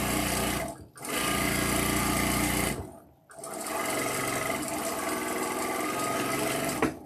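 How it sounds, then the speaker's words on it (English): A home sewing machine stitches fabric at high speed in a loud, steady, close whir, running in three long bursts split by two short pauses. "My machine does sew faster"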